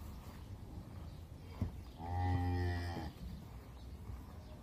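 A single loud, drawn-out moo from a calf being shown for Eid al-Adha sounds close by, rising out of a quiet background and lasting about a second with no talking.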